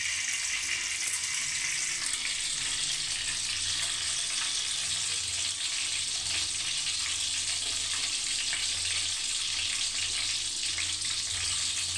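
Mustard seeds frying in hot oil for a sea snail and drumstick masala curry, a steady close sizzle and crackle that holds evenly throughout with no talking.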